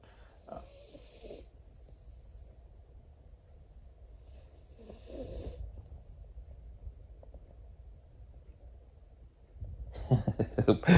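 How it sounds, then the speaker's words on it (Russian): A woman asleep snores softly in slow, rhythmic breaths in a quiet dark room, with a louder rustling burst near the end. "Ой, как она храпит хорошо."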